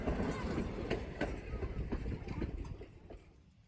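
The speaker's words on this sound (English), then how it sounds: ".475 is Strasburg's second largest locomotive and most unusual due to its wheel arrangement." Strasburg Rail Road steam locomotive number 475, an unusual 4-8-0 wheel arrangement, running on its line: a faint rumbling roll with rhythmic chuffs and clanks, fading toward the end, under narration.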